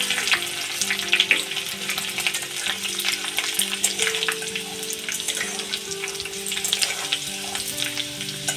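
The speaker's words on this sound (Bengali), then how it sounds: "এগুলা হালকা একটু ভেজে নিব। তারপরে রসুন কুচিগুলো দিয়ে দিলাম।" Chopped garlic and whole garam masala fry in hot oil, giving a dense, continuous sizzle with crackles and the occasional stir, close up and steady throughout.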